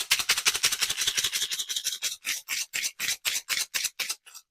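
A rapid run of rattling, scraping shakes from a charm bowl, loud and close, growing into distinct rhythmic bursts before stopping.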